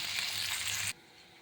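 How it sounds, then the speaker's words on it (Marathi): Chopped onion with curry leaves sizzling in hot oil in a pan for chana usal, a steady loud frying hiss that cuts off abruptly partway through, followed by near silence. "एक चिरलेला कांदा घालून परतवून घेऊ।"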